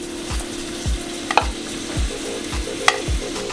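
White onion sizzles in a pan as a seafood cazuela is being made, with steady frying hiss and repeated scraping stirs at a regular pace, close and moderately loud, with no talk.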